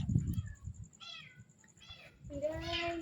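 A pet cat meows several times in a dark, spooky indoor setting, the calls short and nearby, the last one longer and drawn out, with background noise and people talking quietly around it.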